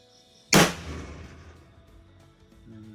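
A single rifle shot fired through an iAiming iA612 thermal scope: one sharp, loud crack close by, with a reverberating tail that fades over about two seconds. No one speaks.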